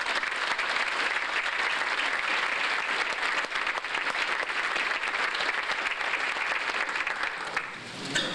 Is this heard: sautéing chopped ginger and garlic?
no